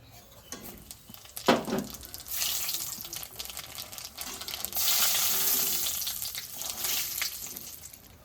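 Cumin and dried chili drop into hot oil and begin sizzling, with a sharp clatter as they go in, then a steady hiss that swells and holds, close and fairly loud, no voices.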